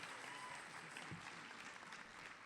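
An audience at a 2023 Employee of the Year ceremony claps for the certificated employee nominees, a faint, distant, even patter of applause throughout.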